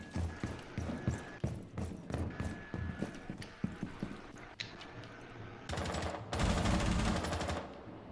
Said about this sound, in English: Where's the gunfire coming?